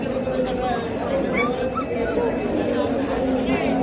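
A greyhound barks and yips at a dog market during the Malegaon yatra fair, with several sharp barks and whimpers over a busy crowd murmur and nearby talking.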